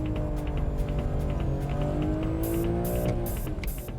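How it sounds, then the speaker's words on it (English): A new BMW M3 sports car power-slides through a drift, its engine droning loud and steady while tires squeal in long rising tones, with sharp bursts of tire noise near the end. "Ah, nice power slide there."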